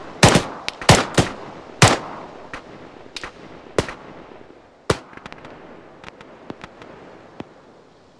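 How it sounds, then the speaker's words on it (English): Gunfire in the Arma 3 military video game: a burst of loud, sharp shots early on, then scattered single cracks and fainter distant pops trailing off, with no talk. "Sounds like shooting southeast, but I can't see it"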